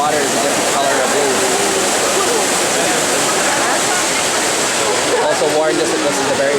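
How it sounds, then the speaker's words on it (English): Fountain in a Rome square on a sunny day, a loud, steady splashing rush of water that fills the scene continuously, with faint crowd murmur underneath. "We're now at the fountain."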